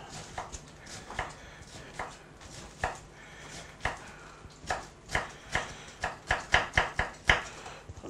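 A knife chops an onion on a board in a steady series of crisp, close thuds that speed into a quicker rhythm toward the end, with no talking.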